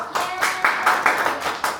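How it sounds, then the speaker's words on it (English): A small group at a studio Hanfu photography workshop claps for a model, a short round of distinct, close hand claps in a loose uneven rhythm. "Can we give her a round of applause?"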